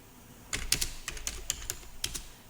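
A computer keyboard clacks as a short terminal command is typed, giving a quick burst of about a dozen crisp keystrokes close by with no voice.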